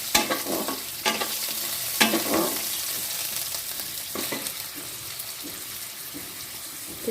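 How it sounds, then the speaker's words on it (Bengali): Potatoes sizzling in a wok with panch phoron, a steady frying hiss broken by periodic scraping stirs and clinks of a spatula, close and alone without talk. "এবার দিয়েছি কড়াই পাঁচফোড়ন, দিয়ে আলুগুলো ভাজছি"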